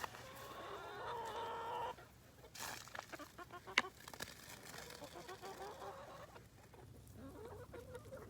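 Several chickens cluck and murmur close by in an outdoor setting, with a brief sharp knock partway through and steady background ambience.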